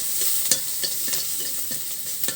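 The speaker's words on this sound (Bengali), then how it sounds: "এখানে পরিমাণ মতো হলুদ গুঁড়ো দিয়ে ভেজে নেওয়া হচ্ছে" Garlic frying with turmeric powder crackles softly in a pan, broken by a regular run of stirring scrapes and clicks about every half second over a steady low sizzle.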